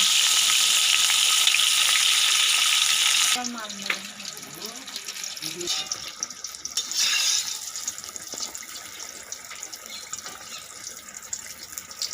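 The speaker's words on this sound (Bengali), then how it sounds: "এবার ভাজা হচ্ছে বেগুন।" Aubergine slices frying in hot oil in a wok: a loud, steady broadband sizzle for the first few seconds, then a quieter, ongoing crackle with some voices and clatter over it.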